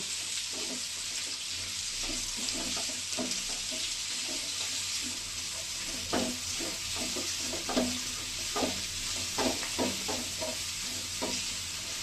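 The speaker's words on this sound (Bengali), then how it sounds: "পেঁয়াজটা আমি ভালো করে ভেজে নিব।" Onions sizzle steadily in a hot pan while a spatula scrapes and stirs them in repeated strokes. No one speaks.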